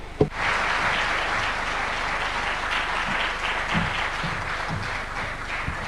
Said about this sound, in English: A warm, big round of applause for His Excellency.